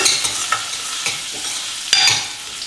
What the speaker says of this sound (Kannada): ಇದನ್ನು 1 ನಿಮಿಷ ಎಣ್ಣೆಯಲ್ಲಿ ಈ ಥರ ಫ್ರೈ ಮಾಡ್ಕೋಬೇಕು